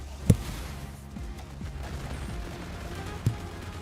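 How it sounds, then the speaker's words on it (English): Two sharp thumps, close and muffled, separated by about three seconds against a low background rumble. "if I slap my microphone like this"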